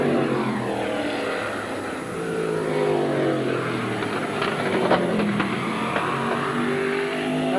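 Race cars roaring around the Midvale Speedway track in 1982, including an old-style 1964 Chevelle, a dense steady engine drone with cars passing close, loud and continuous.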